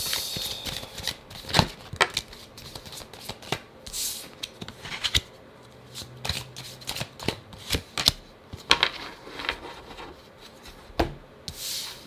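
Tarot cards are shuffled and drawn at close range, with soft rubbing card slides, sharp snapping flicks and pauses between handlings, no speech.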